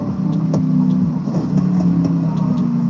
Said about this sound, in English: I'll drive the Dodge Ram back.